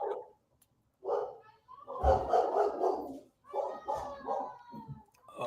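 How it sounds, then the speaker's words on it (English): Several dogs bark in short, irregular bursts, some sharp and some more muffled. They come across as moderately loud, with brief pauses between volleys. "Shout out to the dogs in the background."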